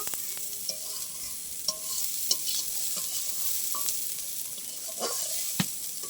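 A spatula stirs ingredients in a hot wok of oil, with steady sizzling frying underneath and a handful of sharp scraping clicks against the metal, close and fairly loud, with no voices.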